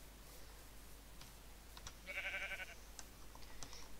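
A single sheep bleat from the Minecraft video game, fairly faint, rises briefly over quiet background clicks and faint keyboard-like tapping.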